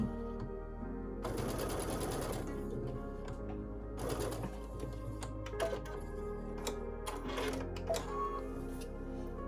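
Sewing machine stitching a fabric table runner, its needle chattering in quick, even bursts that start and stop, moderately close over a low steady hum.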